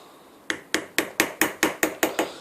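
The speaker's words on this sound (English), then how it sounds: "you gently tap the screwdriver blade into the gap that you've just created" Nine sharp metallic taps, evenly spaced about a quarter second apart, as a screwdriver blade is gently hammered into the gap under a clamp ring on a Land Rover air suspension compressor, close and clear with no talking.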